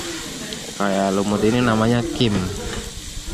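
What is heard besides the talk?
stirring fried rice with kim on a hot griddle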